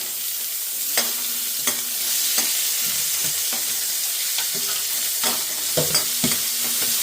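Chopped tomatoes hit a hot oiled pan for sambar and sizzle steadily, with a spoon scraping and stirring in irregular clacks throughout and no voices.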